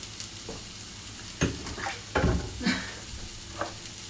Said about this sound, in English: So we're just frying that up